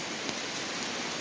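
Steady rain falling on a surface, a dense, even hiss with faint drop patter and no voices.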